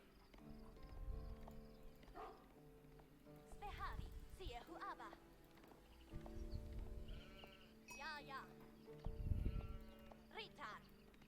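Sheep bleat repeatedly in Age of Empires IV amid hoof clip-clops and other game sounds, several short calls spread across the stretch under a voice that talks intermittently.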